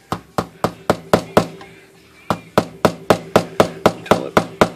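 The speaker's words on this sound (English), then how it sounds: "So we'll just hammer it in here" A hammer drives a brad into the core of a Remington typewriter platen with fast, even, sharp taps, about a dozen and a half blows with one short pause partway through, loud and close.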